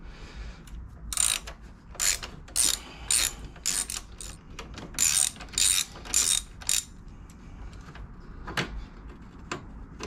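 A socket ratchet clicks in quick bursts of rapid pawl ticks, separated by brief pauses, as a bolt is backed out of the center stand on a 1994 Honda CBR 1000F motorcycle; close and clear.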